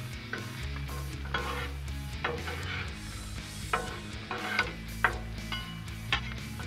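Onions softening on a Blackstone flat-top griddle give a steady close sizzle, broken by repeated scraping and ticking spatula strokes that grow sharper toward the end, with no talking.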